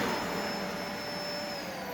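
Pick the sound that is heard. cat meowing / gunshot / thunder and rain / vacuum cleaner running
vacuum cleaner running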